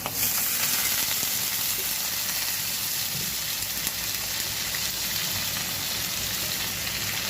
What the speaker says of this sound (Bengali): এখন আমি এই মাছের তেলটা দিয়ে দেবো